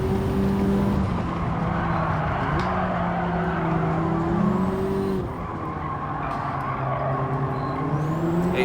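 Race car engine in Gran Turismo 7 holding a steady high drone with gradual pitch shifts as it accelerates, loud and continuous with no talk.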